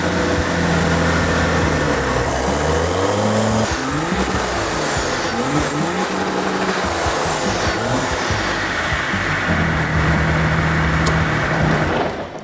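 A swapped car engine runs with no exhaust fitted, roaring loudly and continuously as it is revved up and down, with no voices over it.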